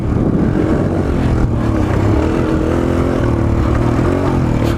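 A Suzuki DR-Z 125L motorcycle engine runs loud and close with a steady, buzzing drone, its pitch shifting slightly as it is downshifted without the clutch while riding.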